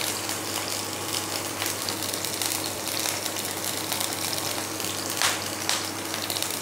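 Garlic and dried chillies frying in hot oil give a dense, even sizzle that hisses on without a break, with a few brighter pops near the end and no voice heard.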